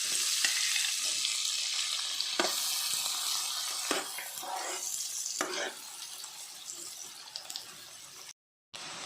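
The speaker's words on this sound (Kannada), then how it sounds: "ಮೂರು ಸಣ್ಣದು ನೀರುಳ್ಳಿ ಹೆಚ್ಚಿಟ್ಕೊಂಡಿದ್ದೇನೆ, ಅದನ್ನೀಗ ಹಾಕಿ ಗೋಲ್ಡನ್ ಕಲರ್ ಬರುವವರೆಗೆ ಫ್ರೈ ಮಾಡಿಕೊಳ್ಳುವ." Three small chopped onions frying in hot oil in a pan, a steady close sizzle that runs for several seconds with occasional scrapes of stirring, then a brief drop to silence before the sizzle returns.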